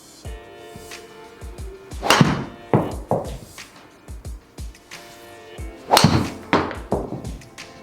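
TaylorMade SIM driver strikes on a range, several sharp thwacking impacts spaced a second or two apart, close and fairly loud, with a couple of doubled hits and faint background noise between swings.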